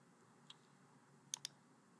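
Two quick computer mouse clicks sound close together after an earlier faint click, crisp and quiet over a low room hum.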